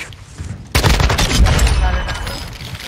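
Rapid gunfire erupts suddenly in a video game shooter, loud bursts of automatic shots rattling close for a couple of seconds before tapering, with a player's voice over it.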